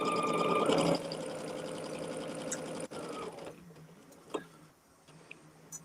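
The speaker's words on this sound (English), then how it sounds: "Now let's get to sewing these half square triangles." A sewing machine stitching quilt half square triangles runs with a steady, fast mechanical chatter, loud for the first second, then continuing more softly with a few light clicks and pauses near the end.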